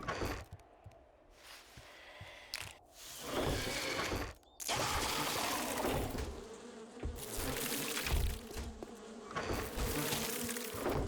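A dense, steady buzzing of many bees fills the space, loud and close, with brief dips and swells as the swarm shifts.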